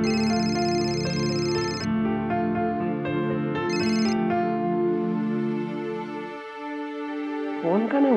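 An unanswered phone rings with a steady, repeating electronic ringtone, loud and close, with a few sustained tones and other sounds beneath it.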